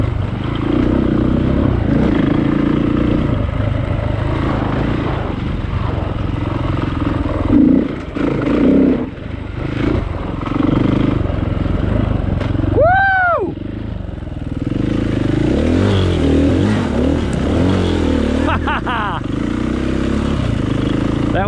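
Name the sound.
dirt motorcycle riding on a woods single-track trail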